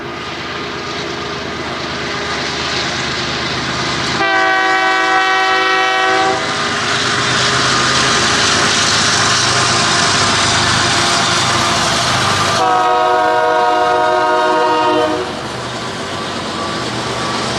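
A massive freight train passes in Riverside, California, with a loud, continuous rumble and two long, blaring horn blasts.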